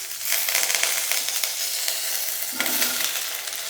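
Mustard seeds, asafoetida and curry leaves sizzle loudly in hot oil for a South Indian tempering, a steady dense crackle and hiss with brief stirring bursts, close and continuous with no talk.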